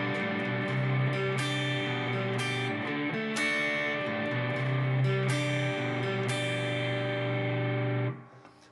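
Distorted electric guitar chords drive through a chorus progression, with loud, thick strummed chords in a steady rock rhythm that ring out and cut off at the end, heard alone.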